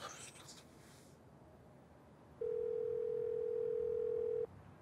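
A telephone ringing tone plays over a speakerphone call as one steady, sustained beep of about two seconds, preceded by brief faint rustling and room noise.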